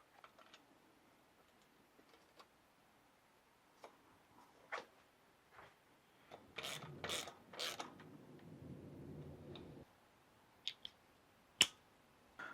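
Bicycle cranks are refitted on a scrap Carrera Kraken, with faint, scattered mechanical ticks that build into a brief, denser run of ratcheting clicks midway before thinning out again. Close and quiet, with no voices.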